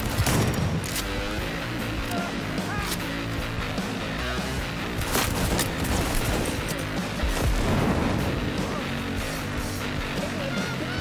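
Gunfire in Cyberpunk 2077 crackles in repeated shots and bursts, mixed with booms and crashes, loud and close throughout.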